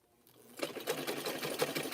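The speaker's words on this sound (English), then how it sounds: "put her aside and use the other sewing machine." A sewing machine with an overheating motor starts up after a quiet moment and runs steadily with a fast, rattling mechanical stitch rhythm, close and fairly loud.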